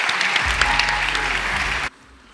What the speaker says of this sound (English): Ladies and gentlemen, please give another round of applause for Mark Cuban.